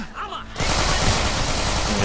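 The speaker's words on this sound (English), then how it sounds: "Holding machine gun." Sustained, loud automatic gunfire from a machine gun in the video game Manhunt 2 bursts in after a brief quieter moment and rattles on densely to the end.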